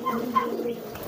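Soft, low pigeon coos from a young homing pigeon being trained for its first flight, a couple of brief calls over a faint steady background.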